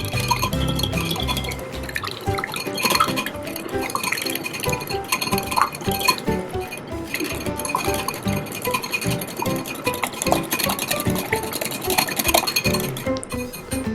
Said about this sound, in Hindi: अंडे को फेंट लेंगे